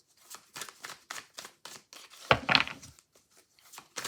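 Tarot cards are shuffled by hand in quick, close riffling bursts, about a dozen short crisp flutters with one longer louder ruffle in the middle.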